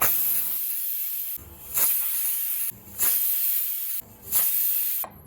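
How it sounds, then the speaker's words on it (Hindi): A pressure cooker used for eggplant masala rice vents leftover steam after four whistles, giving loud, close hissing bursts broken by three brief gaps. "कुकर में 4 सीटी हो चुकी है और जो बची कुची हवा थी वो भी निकाल देंगे हम।"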